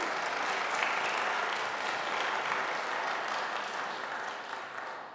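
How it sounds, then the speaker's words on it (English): Church audience applauding a longtime staff member at a Yuletide gathering, a dense, even wash of clapping heard alone that slowly fades toward the end. "I will accept that applause because it was so much fun"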